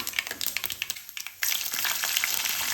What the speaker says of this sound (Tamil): கடுகு போட்டதும் உளுத்தம்பருப்பு கூடவே ஒரு பட்டை, 2 பிரியாணி இலை, கொஞ்சம் சோம்பு சேர்த்து நல்லா பொன்னிறமாகிற அளவுக்கு வறுத்துக்கிறோம்.